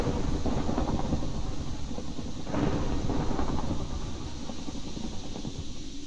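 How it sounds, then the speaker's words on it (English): Minecraft thunderstorm: steady heavy rain hiss with a deep rolling thunder rumble swelling midway, continuous and loud throughout, no talking. "this storm is not going to produce a tornado"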